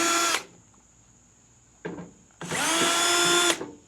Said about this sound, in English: So right now we're going to take the controls and take the screws out of it.